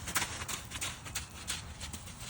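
A horse steps forward during trailer loading training, its hooves landing in a quick series of sharp, close clops over a steady background hiss.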